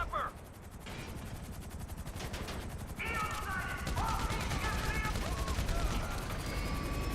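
Gunfire from Franklin in GTA V, a rapid, sustained stream of automatic shots crackling with distant game ambience and some faint background chatter layered beneath.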